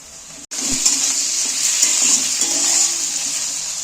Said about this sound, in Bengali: এইবার আমি মাংসটা পেঁয়াজটার উপরে তুলে দিচ্ছি।